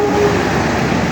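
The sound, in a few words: CC 206 shunting locomotive passing by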